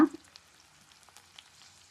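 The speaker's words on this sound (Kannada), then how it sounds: "ಈಗ ಈರುಳ್ಳಿ ಹಾಕೊಂಡಿದ್ದೀನಿ, ಬೆಳ್ಳುಳ್ಳಿ" Onion and garlic frying in a pan for a Karnataka-style avarekalu huli saaru, a brief hiss at the start that fades to a faint, light sizzle with scattered small pops.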